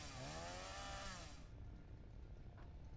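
A chainsaw cuts down trees in the video game Satisfactory, a loud buzzing whine for about a second and a half that cuts off abruptly, leaving low ambient noise.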